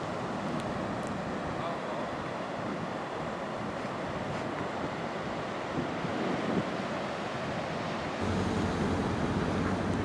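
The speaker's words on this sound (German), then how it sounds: "Beach und die grossen Wellen und doch noch ein paar Leute." Big ocean waves break on the beach at Oceano, California as a dense, continuous roar of surf mixed with wind rumble on the microphone, loud and steady, swelling slightly near the end.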